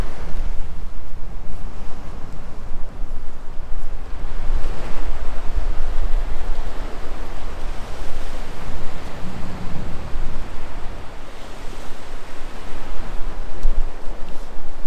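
Surf washing onto the shore at Sunny Beach, Bulgaria, a continuous broad roar of breaking waves with wind buffeting the microphone, steady and loud throughout with no voices.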